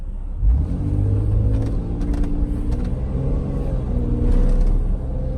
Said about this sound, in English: One more time, I want to show you the pickup of this little truck and the throttle response.